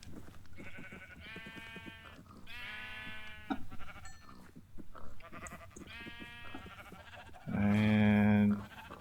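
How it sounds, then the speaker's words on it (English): Several sheep in a video game bleat repeatedly, wavering calls overlapping one another at close range, ending with one loud, drawn-out bleat. "We'll give the hay to the sheep first."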